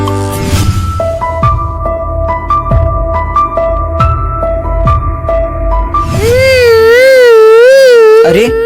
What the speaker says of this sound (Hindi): अरे ये रोने की आवाज किसकी आ रही है?